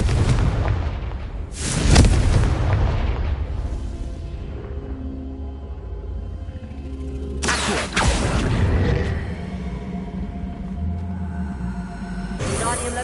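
Confringo fire-blast spell detonating in Hogwarts Legacy, a loud booming explosion at about two seconds and another near eight seconds, each trailing off into rumbling game ambience, with a third burst at the end.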